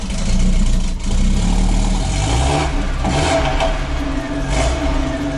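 A Lada 99 (VAZ-21099) pulls away, its engine revving up loud and close, then settling into a steady, gently fluctuating drone as it drives off.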